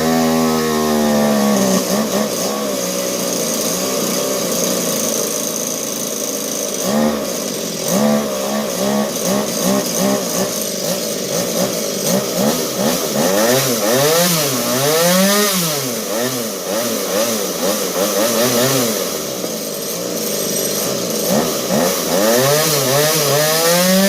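A Stihl chainsaw being repaired runs loud and close at half choke after starting, its engine revving up and down in uneven surges, burning off carb cleaner residue.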